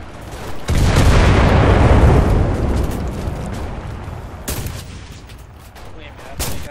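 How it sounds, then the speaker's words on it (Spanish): A bomb goes off in the World War II shooter Enlisted, a loud sustained blast rumbling for a few seconds, followed by further distant booms and gunfire cracks. "Y aquí es donde traste la bomba"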